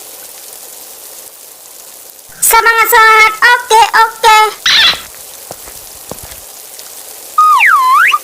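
Rain falls in the Sakura School Simulator video game, a soft continuous patter behind a voice that speaks briefly and a short burst of game tones near the end.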